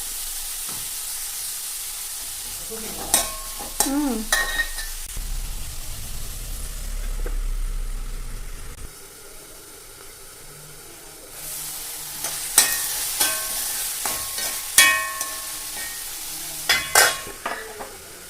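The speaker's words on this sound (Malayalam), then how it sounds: "നമുക്കതിലേക്ക് ഉപ്പും കൂടി ഇട്ടിട്ട് നന്നായിട്ട് അത് വേവിച്ചെടുക്കണം" A pan of salted tomato gravy for paneer butter masala bubbles and sizzles while a spoon scrapes and clinks against the pan in intermittent bursts.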